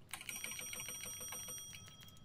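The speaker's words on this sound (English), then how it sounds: "can't forget to break the bell." A bell in the Roblox Doors video game rings in rapid, bright metallic strikes that blur into a ringing tone with a sustained high overtone, quiet and alone for about two seconds.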